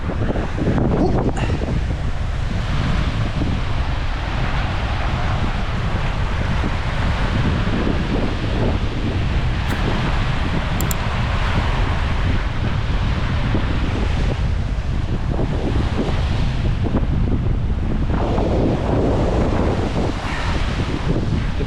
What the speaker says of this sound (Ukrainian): Трошки трошки цей вітряно. Ну, Є волна, хвиля.